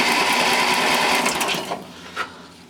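A Suburban 14 garden tractor engine cranks and churns loudly and steadily, a dense mechanical whir close by that eases off toward the end, with no talking.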